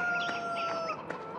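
Chickens in Farming Simulator 2013 clucking and crowing in short repeated bursts over a faint steady game drone, no talk.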